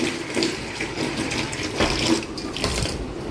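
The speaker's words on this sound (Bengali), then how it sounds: "শাকের মধ্যে অনেক বালি থাকে, সেই জন্য জলের মধ্যে এইভাবে বারবার এরকম করে ধুয়ে নিচ্ছি" Leafy greens are swished and rinsed repeatedly in water to wash out sand, producing close, continuous sloshing and splashing with rhythmic surges.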